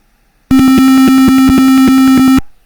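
A buzzer sounds a single sustained tone for the note do, a loud, harsh, steady electronic beep lasting about two seconds in silence.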